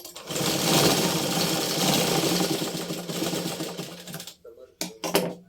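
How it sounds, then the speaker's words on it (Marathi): A domestic sewing machine stitches in a steady, close, continuous whirring run for about four seconds, then stops, leaving a few brief mechanical clicks and knocks. "आता परत एक टीप मारते"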